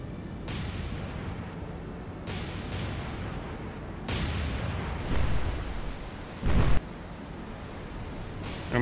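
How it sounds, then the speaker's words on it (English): Heavy naval gunfire from the battleship USS Iowa in the naval combat game War On The Sea, with several deep booming salvos spaced a few seconds apart over a rumbling sea and ambient background. "Guns are away."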